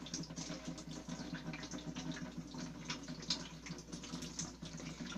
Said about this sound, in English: It's draining into the other bucket.